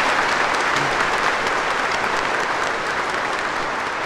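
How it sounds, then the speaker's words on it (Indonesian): A large church congregation at an Easter service applauds in a dense, sustained wash of clapping that fills the hall. It keeps a steady loudness throughout, and a few voices can be heard faintly underneath. "Semua tepuk tangan untuk Yesus Kristus."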